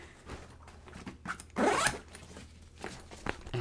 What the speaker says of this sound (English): let's see if it'll zip closed